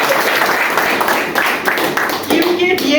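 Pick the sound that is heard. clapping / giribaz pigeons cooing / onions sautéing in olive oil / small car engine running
clapping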